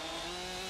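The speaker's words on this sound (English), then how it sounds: "The Husqvarna 592 XP and the Stihl MS500i are two giants in the chainsaw world." A Husqvarna 592 XP or Stihl MS500i chainsaw runs at a steady high-revving whine, cutting through dry wood in one brief, loud, continuous burst.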